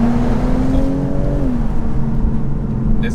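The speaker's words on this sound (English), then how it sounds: "There's no denying that the B58 sounds great." A 2019 BMW Z4 M40i's B58 engine revs steadily, then its pitch drops as it is downshifted into second on an open national speed limit road. The engine drone carries on loud and close throughout, with no voices.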